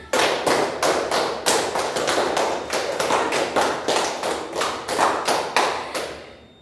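A class of schoolchildren claps a counted rhythm in unison, three rounds of five sharp claps each, loud and close, with brief pauses between the groups and no talking.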